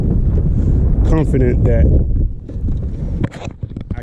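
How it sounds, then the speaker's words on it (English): Strong wind buffets the microphone during a test run of an old Pelican boat on open water, a loud continuous roar with someone talking over it and the gusts easing near the end. "Very windy day today"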